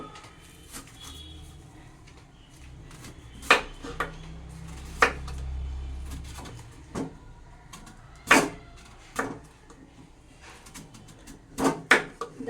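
A knife cuts through soft taro stems in a kitchen, making a handful of sharp, isolated chops against a board, spaced irregularly and close by over a quiet low hum.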